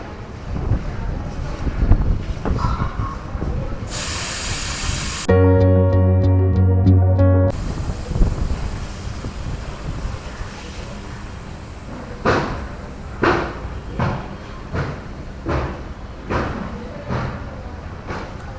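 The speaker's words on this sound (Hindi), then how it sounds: "सबसे पहले हम इसका हवा निकाल लेते हैं।" Air hisses out of a motorcycle tyre valve as it is deflated outdoors, with a short loud burst of hissing, a steady tonal hum, then scattered clicks and rustles over wind noise.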